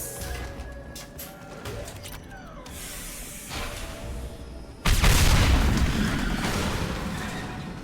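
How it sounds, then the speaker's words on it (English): In Mass Effect 2, a fuel tank explodes with a sudden loud blast, then a lingering crackling rumble of debris. Scattered gunshots and combat noise come before it, and no one speaks. "I guess you could blow up those tanks if you have like a These are full of fuel"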